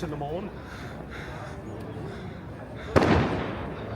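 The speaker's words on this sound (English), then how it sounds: "Fireworks going off galore." A single sharp firework bang cracks out in the distance outside Goodison Park football stadium, with its echo fading away over the sound of people talking nearby.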